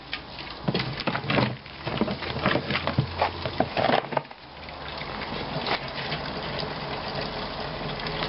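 Home-brewed liquid pours and splashes steadily into a vessel, a busy, uneven stream of splatter that thins to a smoother, quieter flow partway through.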